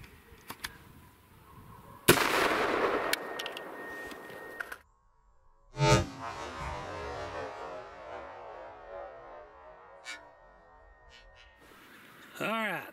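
A 300 Blackout rifle with a 10.5-inch barrel fires a Hornady CX round into ballistics gel outdoors. Sharp, loud reports ring out with a trailing echo, and talking can be heard around the shots.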